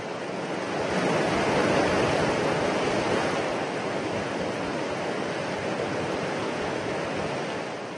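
The swollen Hemavati river in Chikkamagaluru runs high after heavy Western Ghats rain, a dense, continuous roar of rushing water that stays loud and even throughout, with no voices.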